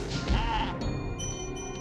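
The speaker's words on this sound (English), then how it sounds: "Did I just hear a sheep?" A sheep from the video game Spyro the Dragon lets out a single loud, wavering bleat, heard close over steady game background music.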